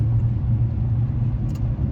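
A 1979 Ford Bronco Ranger XLT engine idles with a steady, loud, low rumble, close and continuous throughout.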